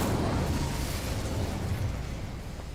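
Incendio fire spell cast in Hogwarts Legacy on PS5, a loud, sustained roaring burst of flame that rumbles steadily for nearly three seconds, then eases off slightly toward the end.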